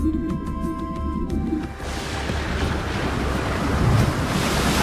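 Storm waves roll and crash at sea, a broad, continuous roar of surf and wind that grows steadily fuller, following a brief tonal musical passage at the start.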